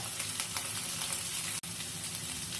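Ash gourd curry sautés in a pan with spices, giving a steady, close sizzle and fry with faint stirring scrapes throughout and one brief dropout near the end.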